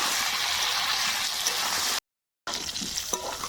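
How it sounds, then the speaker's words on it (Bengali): Pointed gourd and potato frying together in a pan give a steady, fairly loud broadband sizzle that cuts out briefly, then returns slightly quieter with small crackles and pops. "পটল আর আলু এবার একসঙ্গে ভেজে নেব"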